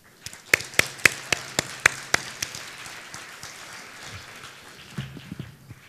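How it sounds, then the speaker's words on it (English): An audience at a breast cancer symposium applauds, with a burst of sharp, distinct claps that quickly thins into scattered light clapping and soft murmurs. "I think another round of applause"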